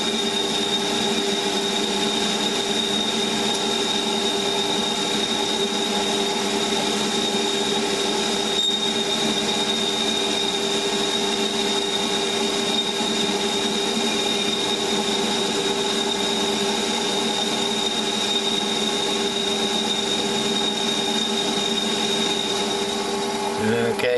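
A Warco WM 180 metal lathe runs steadily with its power feed motor engaged, a continuous even whine with constant tonal hum throughout, moderately loud and unbroken.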